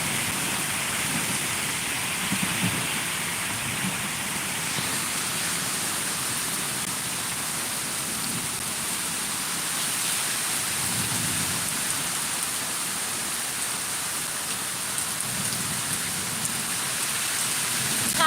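Heavy rain pours steadily, with low rumbles of thunder rolling in at intervals beneath the constant hiss of the downpour.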